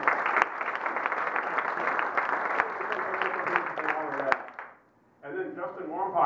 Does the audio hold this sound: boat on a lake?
no